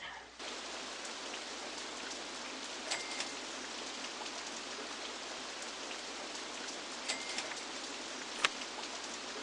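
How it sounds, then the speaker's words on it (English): Steady video-game rain patters continuously with a soft hiss, broken by a few sharper drops, and no voices. "And of course it would rain, because why not?"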